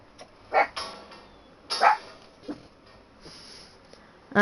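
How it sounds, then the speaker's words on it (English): A dog gives a few short, sharp barks and yips in separate bursts, fairly close, with quiet stretches between them. "That was my dog, y'all."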